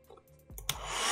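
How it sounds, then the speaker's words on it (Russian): A hair dryer clicks on after a few faint knocks and rises into a loud, steady close whoosh of blowing air that keeps building to the end. "Это у нас фен."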